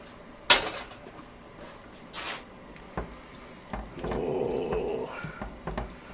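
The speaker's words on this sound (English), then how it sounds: "put the lid on it" A metal lid is set onto a pot of beef stroganoff with one sharp, close clank, followed by softer clatters and a stretch of scraping and rattling cookware in a quiet kitchen.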